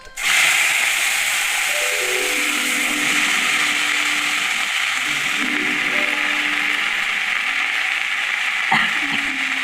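Water spinach stirred into hot oil in a pan, with a continuous sizzling hiss and some scraping, loud and close, and no talk.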